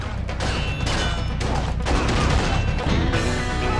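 Heavy gunfire from the enemy boss Pain in the Wii game Red Steel 2, a loud continuous barrage with brief breaks, dense and close throughout.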